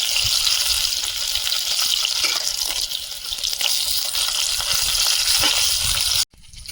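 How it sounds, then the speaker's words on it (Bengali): Cut pieces of snakehead fish fry in oil with a loud, dense, continuous sizzle close to the pan that cuts off abruptly near the end. "শোল মাছগুলো একদম কাট করে ভেজে নিই"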